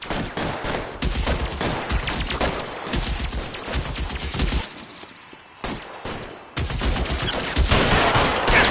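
A sustained, dense burst of gunfire from several weapons rattles through a shootout in the video game L.A. Noire on PS5, loud and nearly continuous, with a brief lull partway before the firing resumes.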